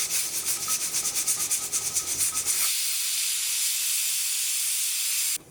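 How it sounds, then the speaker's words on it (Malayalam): A pressure cooker of broken wheat vents steam, first in a rapid pulsing, sputtering hiss, then a steady loud whistle-like jet that stops abruptly just before the end. "ഇപ്പോൾ കുക്കറിൽ നിന്ന് ഒരു വിസിൽ വന്നിട്ടുണ്ട്."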